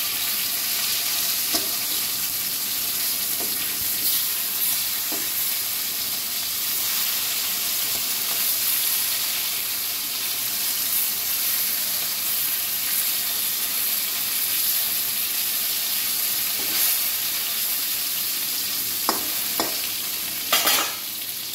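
Fish frying in oil after being turned over in the pan, producing a steady close sizzle with intermittent scraping and clinks from the utensil, louder taps clustering toward the end.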